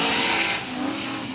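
A Corvette drift car on the track with Falcon tires goes sideways and throws up dust, its engine roaring loudly with screeching tires that fade into a sustained engine drone.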